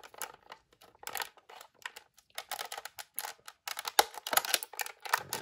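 Crinkly plastic and cardboard rustling and tapping as a LOL Surprise Boys Arcade Heroes toy package is opened, with irregular close bursts of crackle and small clicks and no voices.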